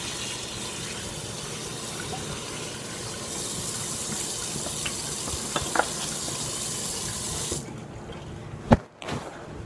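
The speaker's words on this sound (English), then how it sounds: "Right now, I'm gonna wash my hands real quick." Tap water runs steadily into a sink during handwashing for most of the span, then cuts off near the end, followed by a couple of sharp knocks.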